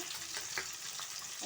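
Sliced ivy gourd (kundi) and potatoes dropped into hot oil in a pan, giving a quiet, steady frying sizzle with a few soft clinks and stirs, close by and without talk.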